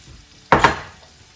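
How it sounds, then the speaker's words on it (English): A spice mixture drops into a pan of onions, setting off a short, sharp sizzle with a quick double burst up close, then a fading hiss. "So back to the onions, I'm going to add this spice mixture that we've just made."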